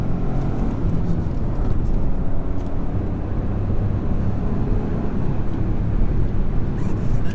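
Continuous droning engine of a 2013 Renault Clio with a 0.9L engine under way, a steady rumble with road noise throughout and no speech.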